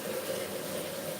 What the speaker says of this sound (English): we're going to get the kettle on for the water for the potatoes